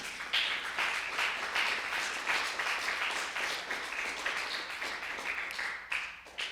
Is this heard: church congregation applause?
yes